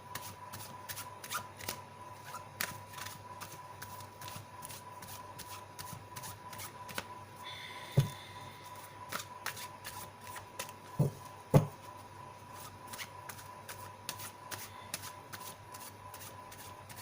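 Tarot cards shuffled in repeated quick riffling bursts that run steadily throughout, close and fairly quiet, with a couple of sharper taps near the middle and no talking.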